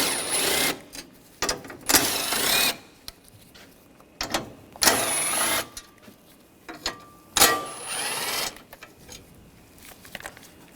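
A ratchet with a 10mm socket loosens bolts on a 2013–2022 Buick Encore 1.4L, giving bursts of rapid clicking separated by pauses and quiet handling noises, close up with no talking.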